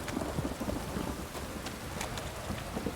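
Heavy rain pours down during a storm in The Witcher 3: Wild Hunt, a steady dense hiss of drops on surfaces with distant thunder rumbling beneath, continuous and fairly loud throughout.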